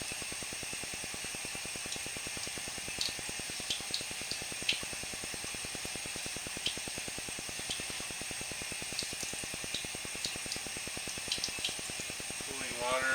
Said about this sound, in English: Cooling water going above the camera lens.